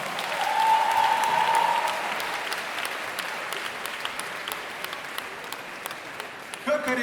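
An audience at a charity concert applauds for a performer, a dense, steady wash of clapping that swells early and then continues evenly under a voice.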